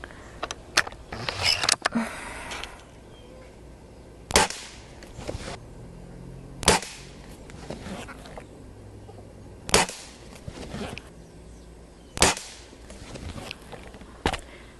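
A Springfield Armory M1A under-lever .22 pellet rifle fires Crosman Premier 14.3-grain hollow-point pellets, sharp isolated cracks spaced a few seconds apart, with quieter clicks and handling noises of the lever between shots.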